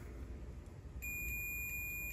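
A steady continuous electronic beep from a multimeter continuity test on a mini fridge thermostat starts about halfway through and holds to the end, loud and close, with a quiet hum underneath.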